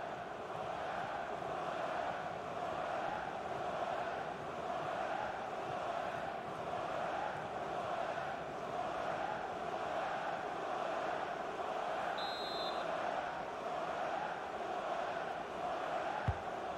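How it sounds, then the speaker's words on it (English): Simulated football stadium crowd in an MLS soccer video game match between Los Angeles FC and LA Galaxy, a steady roar of a large crowd doing a Mexican wave, continuous and moderately loud. "the crowd have got a bit fed up with this match, embarking on a Mexican wave"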